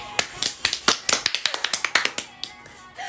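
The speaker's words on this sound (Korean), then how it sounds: "박수 나와요 계속" Several people clap their hands together at close range, giving a quick, uneven run of sharp claps that thins to a few scattered ones before stopping.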